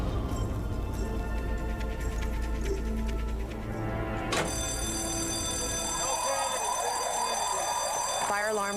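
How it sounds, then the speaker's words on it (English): Fire alarm blaring through a building, a loud sustained electronic tone with warbling, siren-like pulses that swell toward the end, layered over busy background noise and voices. "Fire alarm goes off."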